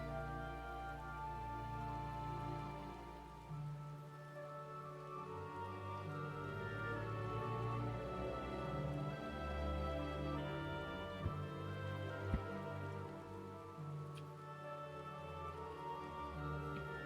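Rain falls steadily outside as a faint, continuous hiss beneath a low hum, with a couple of soft ticks, no speech.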